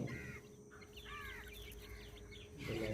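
Soft chirping and peeping of two-and-a-half-month-old native chicks eating from a hand close by, with faint clucks over a low background hum.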